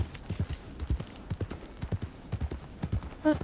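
Steady clip-clop of horse hooves in Red Dead Redemption 2, a brisk, even rhythm of close, fairly soft hoof strikes at a walk or trot, with no talk over them.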